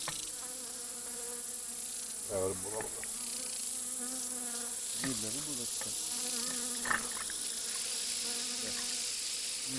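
Mosquitoes buzz during a fishing outing on the Pechora River, a steady close insect whine that runs unbroken for the whole stretch, with a few faint passing sounds beneath it.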